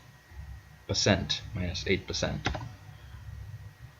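Keys tapped on a computer keyboard while entering key mappings in the Virtual DJ 8 software, a quick run of clicks over roughly two seconds, close by and moderately loud above a low background hum.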